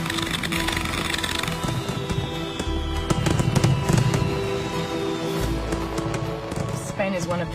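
Fireworks in Barcelona crackle and pop in rapid irregular bursts, with a thin whistling streak rising through them, while people talk nearby over the noise.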